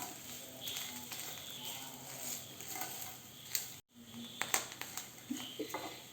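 A spoon stirs crushed pappadam into a vegetable thoran in a pan, giving soft, faint scraping and light sizzling with a few sharper knocks near the end. No one talks.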